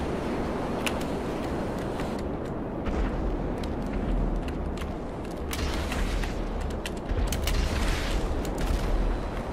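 Rocket explosions in a GTA video game, heard as a dense, continuous roar of booming blasts with repeated heavier low thuds that grow louder partway through, with no talking.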